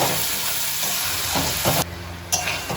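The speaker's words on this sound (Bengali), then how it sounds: "এবার আবার এটা আমি মিনিট 2 ধরে কষিয়ে নেব।" Spicy dried lote fish curry with salt and paste is stirred and sautéed in a pan, a continuous close sizzle with scraping spatula strokes and brief pauses, no voices.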